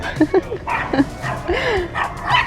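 A small dog gives a few short yips and whines, close by, at a shawarma spot in Kyiv, with some background chatter and noise.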